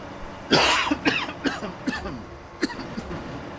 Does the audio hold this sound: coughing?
yes